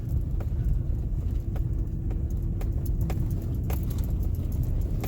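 A truck drives slowly down a slippery, melting snowy road in the Wisconsin winter woods, with a steady low engine and tire rumble and light jingling rattles from the cab throughout. No one talks.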